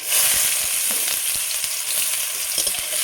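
Chopped onion frying in oil with green chillies and kalo jeera: a loud, continuous close hiss of hot oil with faint stirring taps underneath.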